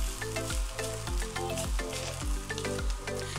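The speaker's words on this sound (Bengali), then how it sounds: "আপনারা দেখতে পাচ্ছেন আমি নাড়াচাড়া করছি আর হাতাটা দিয়ে কিন্তু একটু করে মাংসগুলোকে খুঁচিয়ে দিচ্ছি" Meat frying in a pan while a ladle stirs and mashes it, a continuous sizzle broken by regular rhythmic scraping strokes, close and fairly loud, with no talking.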